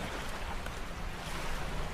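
Sea waves washing at a Quezon Province beach at low tide, a continuous rushing surf with wind buffeting the microphone, fairly close and steady.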